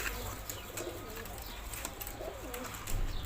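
Pigeons at a bird keeper's loft in Alexandria: soft, low cooing calls come faintly over a noisy background, with a few scattered clicks and rustles.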